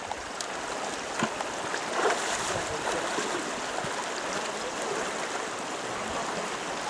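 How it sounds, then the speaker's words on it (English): Water rushes steadily through a Jobe sluice box set in a stream, a continuous broad wash of flowing, splashing water with no pauses and no talking. "That's a Jobe Sluice box there."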